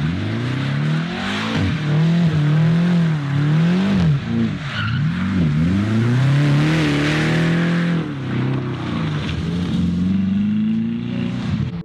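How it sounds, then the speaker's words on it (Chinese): A BMW M6 on a test drive at a private lot, engine revving and rising and falling loudly while the tyres squeal and skid through repeated hard turns, close and continuous throughout with no talking. "紧接着 Tim 又开着这辆宝马 M6 出去试了一下车"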